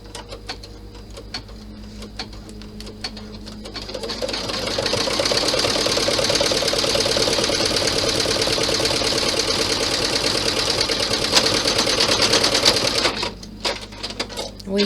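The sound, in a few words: sewing machine stitching a bag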